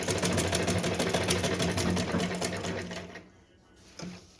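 A sewing machine runs steadily at close range while stitching a small devotional dress, a fast rhythmic mechanical hum that slows and stops near the end, followed by a brief clunk.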